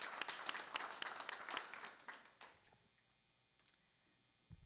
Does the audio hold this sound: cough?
no